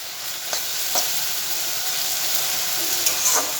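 Potatoes fry in oil in a pan for Maggi noodles, a constant bright sizzle punctuated by a few quick scraping stirs, heard close with no one speaking.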